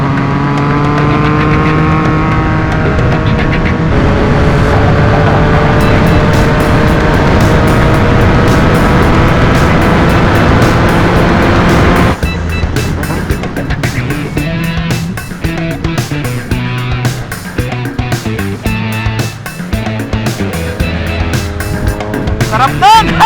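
Yamaha MT-09 motorcycle with a new race-tuned full exhaust revs loudly and steadily, its pitch climbing and holding, then breaks into sharper, choppy blips and crackles in the second half, close and dominant with voices faintly underneath.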